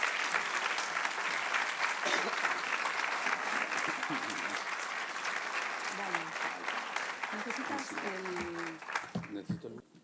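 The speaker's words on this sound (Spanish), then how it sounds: "Un aplauso." Audience applause for a geology lecture, sustained dense clapping that fills the room evenly, with a voice speaking over it near the end as it tapers off.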